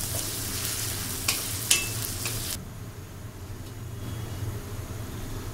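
Onion lightly frying in a pan for a Bangladeshi aair fish curry, a steady soft sizzle with a couple of sharp scrape clicks early on, then a quieter, thinner crackle for the last half.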